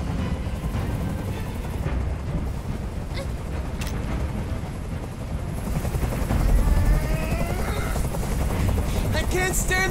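In a hostage standoff scene from the game Detroit: Become Human, a helicopter hovers nearby, its steady rotor roar and low rumble droning loudly and continuously, with faint voices under the noise.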